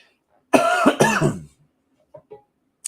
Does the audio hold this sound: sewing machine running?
no